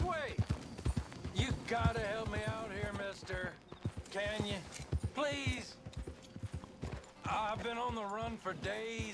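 A horse ridden in Red Dead Redemption 2 clip-clops along in a steady, near hoofbeat rhythm while voices talk over much of it.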